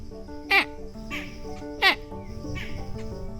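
A bird on a nature walk repeatedly calls for attention, giving two sharp, bright calls about a second apart followed by softer chirps, heard close against a steady background hum.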